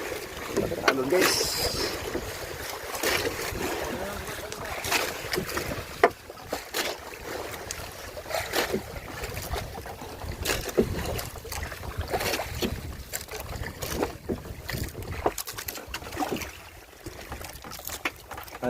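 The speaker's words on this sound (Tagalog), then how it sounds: "Alon guys." Sea waves slosh and splash around a small boat heading toward Animasola Island, with wind buffeting the microphone; people talk over the steady water noise throughout.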